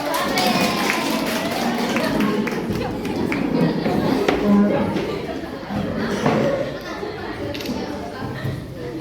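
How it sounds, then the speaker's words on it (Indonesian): A classroom of students clapping their hands together, scattered and uneven claps mixed into lively chatter and voices throughout. "semua tepuk tangan dulu"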